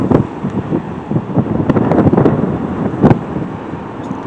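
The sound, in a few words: strong wind blowing by the Pacific Ocean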